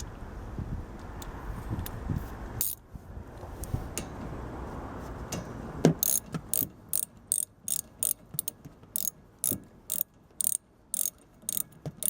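Nuts are run back onto the wiper linkage of a 2009 Dodge Grand Caravan during a wiper motor repair, heard as quiet, close ratcheting clicks in short repeated bursts with pauses between them.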